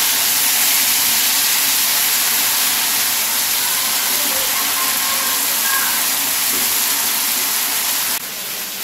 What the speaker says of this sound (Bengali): এখন আমি কড়াতে তেল দিয়ে এটা ভেজে নেব।